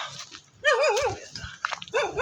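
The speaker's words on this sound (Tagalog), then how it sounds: "maingay yung aso" A dog nearby barks in a few loud, yelping bursts mixed with whiny yips, the calls uneven and spaced by short pauses, outdoors where people are picking Indian mangoes.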